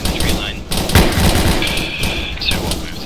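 M240 machine gun firing in the ARMA 3 video game, sharp bursts over a steady battle din, with a radio-style voice speaking over the shots.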